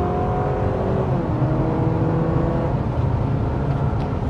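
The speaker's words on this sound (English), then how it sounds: "as we went up to speed there that we were actually kind of going through some gears" A compact SUV, a 2024 Honda CR-V or 2024 Subaru Forester, accelerates steadily from inside the cabin, with a rising engine drone and tire roar and faint pitch shifts as it moves up through the gears.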